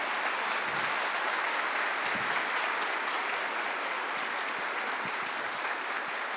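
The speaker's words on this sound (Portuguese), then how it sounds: "Você merece uma salva de palmas." Sustained applause from a church congregation in São José dos Pinhais, a dense, steady wash of many hands clapping close and loud for the full stretch without pause.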